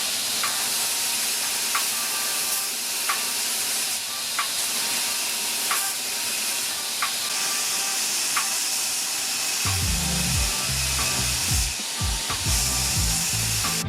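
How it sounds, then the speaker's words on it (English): A Damascus steel mosaic billet being ground, giving a steady, loud abrasive hiss with faint regular ticks, and a deeper rumbling texture joining in near the end. "let's go ahead and grind the mosaic billet first,"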